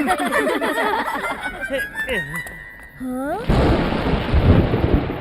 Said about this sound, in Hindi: ये बिजली को भी अभी कड़कना था।